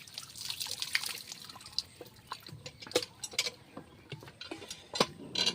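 Tomato coated with spice masala being rinsed under running water at a kitchen sink, with a steady light trickle and irregular drips and splashes throughout, fairly close and moderately quiet.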